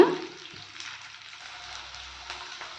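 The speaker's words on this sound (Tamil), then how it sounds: "பூண்டு நல்லா வணங்கட்டுங்க." Garlic sautéing in a pan for Tamil garlic kuzhambu, giving a soft, steady sizzle with faint crackles that holds evenly throughout, quiet and close, with no talking.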